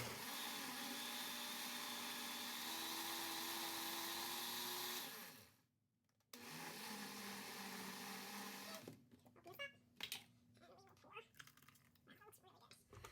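A blender on its frozen drink setting purées butternut squash soup with sweet onions, giving a loud, steady motor whir in two runs separated by a brief stop, followed by quieter clatter.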